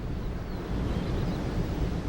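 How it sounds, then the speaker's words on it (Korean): Strong wind over the high Bayanbulak grassland steppe, a continuous low rushing roar with gusty buffeting, broad and steady throughout. "세찬 초원의 바람이 불기 시작한다."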